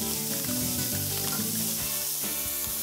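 Meat sizzles and fries steadily in a hot pan as it browns for a Tex-Mex stir fry, with a close, continuous crackle and occasional louder pops.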